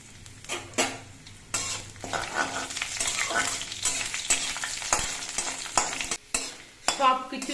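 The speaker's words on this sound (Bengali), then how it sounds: "সুন্দরভাবে ভাজা হয়ে গেছে" Spices with chopped ginger and a little asafoetida sizzle in hot oil for dalma, with steady frying crackle and the repeated scrape and clatter of a spoon stirring the pan, close and fairly loud.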